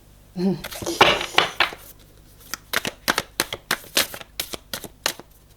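Tarot cards handled and drawn during a reading, giving a run of crisp, evenly spaced snaps and flicks after an initial burst of rustling shuffles, close and fairly loud with no talking over them.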